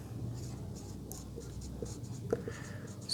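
Pen or pencil scratching steadily across paper while maths solutions are written out, continuous close strokes with a brief sharper tap near the end, alone without talk.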